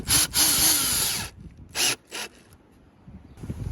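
A Ryobi cordless drill driver backs a screw out of cable fixing, a loud whining motor burst running about a second, then two short trigger pulses, with quiet room noise between.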